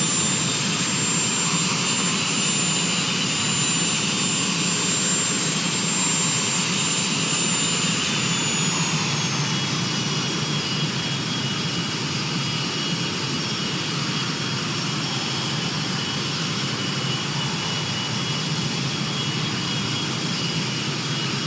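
A jet aircraft on the runway at Saanen-Gstaad, departing for Luxembourg, gives a loud, steady, close engine roar throughout, with a high whine that drops in pitch partway through.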